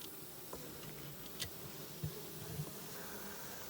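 Africanized honeybees droning steadily around a hive, a soft continuous buzz with a few faint clicks and brief taps rising above it.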